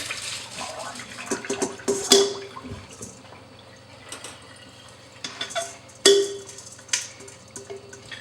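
Salted water trickles and splashes as it drains from rice, with scattered clinks of a pot or utensil, uneven and close, no voices.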